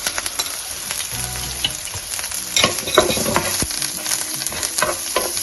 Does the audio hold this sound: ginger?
yes